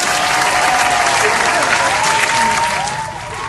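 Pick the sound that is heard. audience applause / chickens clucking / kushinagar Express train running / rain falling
audience applause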